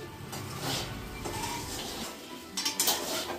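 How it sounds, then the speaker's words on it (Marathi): Sabudana khichdi being stirred and sautéed in a pan, with a metal spoon scraping and clinking against the pan in irregular bursts over low sizzling, the knocks growing sharper toward the end. "तर आता मस्त पैकी छान अशी खिचडी परतते मी."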